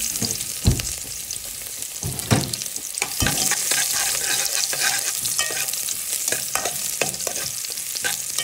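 Garlic sizzles and crackles in hot cooking oil, a loud, continuous frying hiss broken by sharp stirring scrapes and clatters against the pan, with no talking.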